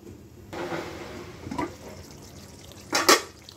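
Pan of steaming boroli fish being handled, a soft clatter followed by a sharper metallic clank as a lid is set down over it, close by in a quiet kitchen.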